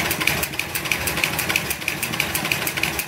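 Singer 31-37 single-needle box pleater sewing machine running at about 500 RPM, a steady mechanical hum with evenly spaced clicking ticks about three per second, close and continuous without talk.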